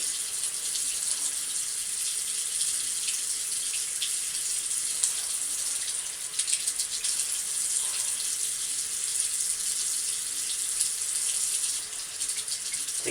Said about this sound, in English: Put a little bit more water on my brush here again.